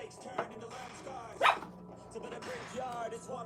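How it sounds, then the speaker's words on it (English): A dog barks once, a sharp yelp rising over quiet background talk in a room, with a softer bark or whimper earlier and speech continuing afterward. "my dog just gave me a sign. He gave me a little signal there saying, "Woof, woof.""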